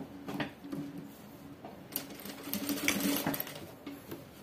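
A sewing machine closes the side seam of a child's crinoline skirt with close, rapid mechanical stitching in uneven bursts, some louder and some quieter.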